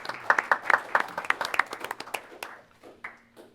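Audience at a city council meeting breaking into applause, a dense burst of clapping that thins out into scattered claps and fades over a few seconds.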